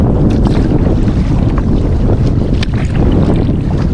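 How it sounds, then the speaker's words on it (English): Loud, gusty wind buffets the microphone on open water with whitecaps while a kayak is paddled across the wind, broadband roar throughout with faint splashes beneath and no speech. "Gonna turn 45 degrees or 90 degrees across the wind, so I'm paddling at 45 degrees."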